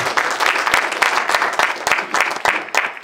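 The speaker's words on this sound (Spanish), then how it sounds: "Recibamos con fuertes palmas al Jamauta Huillay Pachacútec" Audience at a congress applauding to welcome a speaker, loud close clapping with distinct sharp individual claps standing out from the crowd, pulsing unevenly over three seconds.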